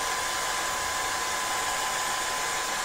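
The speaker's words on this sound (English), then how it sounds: "I'm going to use my blow dryer, just kind of make it a little bit quicker." Hair blow dryer running to dry nail polish, a steady loud whoosh heard close up and alone, with no talking.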